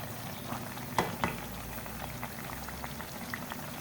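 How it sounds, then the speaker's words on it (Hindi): Potato pakoras deep frying in oil over a medium flame, a steady bubbling sizzle with a few louder spatters and pops, close and continuous with no talk. "आलू के पकोड़े हमने मीडियम फ्लेम पर फ्राई कर लिए"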